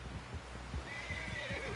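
Horse in Red Dead Redemption 2 gives a clear whinny with a rising, wavering squeal, over soft clip-clop hoof steps, close and moderately loud.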